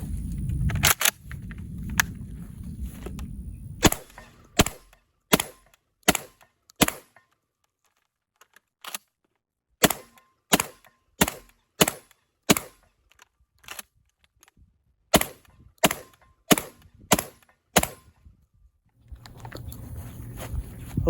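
Tavor TS12 bullpup shotgun firing Federal 7.5 birdshot, 1 ounce loads, about twenty sharp reports in irregular bursts with short pauses between them, each a crisp crack, with no talking.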